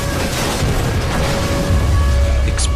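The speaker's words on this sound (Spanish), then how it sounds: "Explosiones y fuego por doquier." Deep rumbling booms roll continuously, like distant explosions layered with crackling noise and a low roar, loud and dense throughout.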